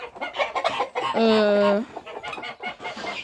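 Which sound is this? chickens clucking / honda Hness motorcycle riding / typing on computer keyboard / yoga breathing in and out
chickens clucking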